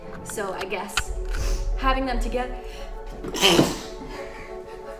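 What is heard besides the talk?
sneeze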